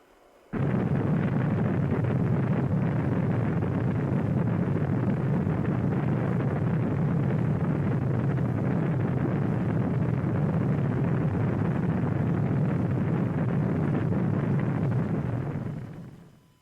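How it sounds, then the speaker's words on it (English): Space shuttle rocket propulsion thrust as a massive, continuous roar that starts abruptly and holds at full loudness for about fifteen seconds before fading. "The raw thrust of rocket propulsion."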